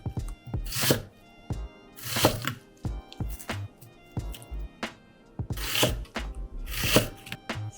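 A knife cuts food into 5 mm slices for a Japanese beef bowl, giving close, crisp chops on a board in uneven bursts, some knocks single and some grouped, with quiet gaps between them.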